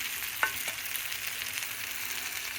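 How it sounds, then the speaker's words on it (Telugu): Tempering spices sizzling in hot oil in a pan, a steady low crackling hiss with a couple of sharp stirring clicks early on, no talk. "తాలింపు పెట్టుకొని"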